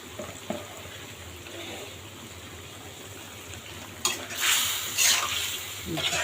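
Dried Loitta fish sizzles in a pan with eggplant, a soft fry hiss that swells into louder bursts of sizzling and stirring near the end.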